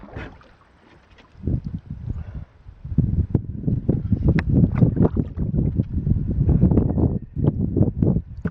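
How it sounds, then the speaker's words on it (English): Gusty wind buffets the microphone on a lake while a solo canoeist paddles the Boundary Waters in August, rising from a quiet lull into loud, ragged rumbling gusts that roar and fade repeatedly, close and unsteady. "The wind doesn't push me up on the rocks."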